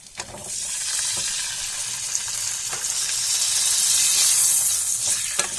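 Four chopped tomatoes tipped into a hot pan for paneer butter masala, a loud, steady, close sizzle that holds for several seconds with faint stirring and no voices.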